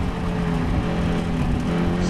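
Caterham Seven 310R race cars run close together down into the dip at Brands Hatch Indy, a steady loud engine drone throughout under race commentary.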